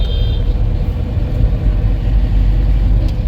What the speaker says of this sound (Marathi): खूपच ट्रॅफिक आहे